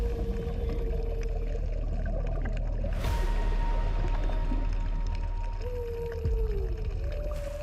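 Humpback whale and calf calling together in the sea, long tonal moans and rising and falling whistles, one strong voice and a fainter one, over a constant low underwater rumble with a brief broadband burst midway.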